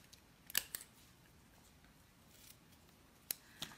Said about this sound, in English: Okay, scissors.